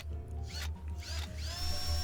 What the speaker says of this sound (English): I didn't have any way to take it off, so I had to drill a hole